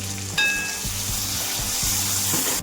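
Brinjal curry with coriander powder and salt sizzles in a pan while being stirred, a close, steady frying crackle with soft rhythmic scraping strokes of the spoon and a sharp clink near the start.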